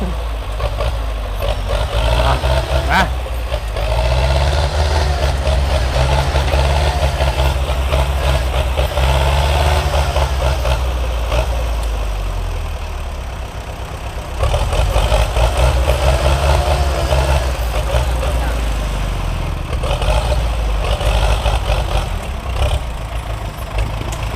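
An old Ford sugarcane grab-loader truck runs close by with a loud, continuous diesel rumble. The engine swells and eases as the pedal is pressed and released, with no talk over it.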